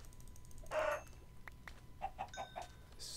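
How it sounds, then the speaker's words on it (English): Chickens in the Minecraft video game, a few short clucks and squawks sounding alone and close at moderate volume, with one louder burst near the start. "But we are gonna kill chickens."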